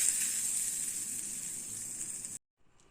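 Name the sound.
hot mustard seed and asafoetida tempering poured onto mixture, sizzling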